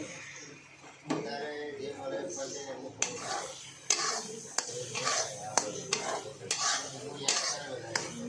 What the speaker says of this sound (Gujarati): ઘી રેડ્યા પછી આ રીતે મિક્સ કરી લેવાનું છે